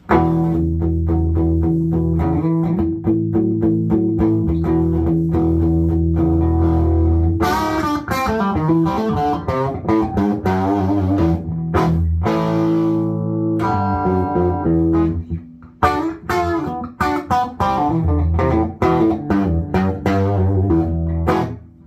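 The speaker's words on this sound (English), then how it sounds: "when you want to get into a distortion solo" A loud, heavily distorted Fender electric guitar plays a sustained solo, with bending notes and fast runs over a droning low chord.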